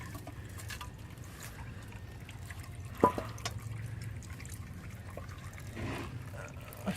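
Water-contaminated differential fluid drains from a flood-damaged Dodge Ram, a faint, quiet dribble and drip with one sharper drop partway through, no talking.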